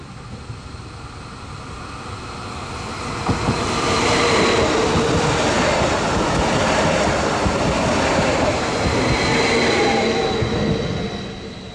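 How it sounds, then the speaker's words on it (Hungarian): A passenger train approaches on a remnant stretch of Hungary's old line 150 near Dunaharaszti, a broad rumble building from about three seconds in, holding loud and steady, then easing slightly at the end, with no talk. "Jön az a vonat szintén a kisebbik csemete felvételén a másik oldalról."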